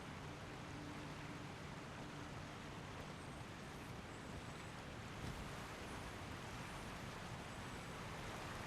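Steady rushing water from a waterfall inside a cave in the Elden Ring video game, a continuous broadband roar that stays even and fairly loud throughout with no voices.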